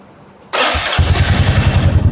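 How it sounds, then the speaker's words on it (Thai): A 2021 Royal Enfield Meteor 350 motorcycle engine cranks over and catches, settling into a loud, steady idle with a throbbing low rumble. "มาเดี๋ยวมาฟังเสียงเครื่องยนต์"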